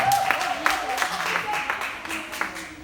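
An audience applauds a female contestant after her song at a televised singing talent competition; scattered clapping runs steadily through the moment while a voice talks over it.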